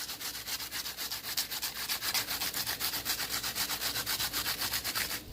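Onion grated by hand against a kitchen grater for Jamaican-style Sunday oxtail dinner, a steady fast run of rhythmic rasping strokes, close and fairly loud, with no talking.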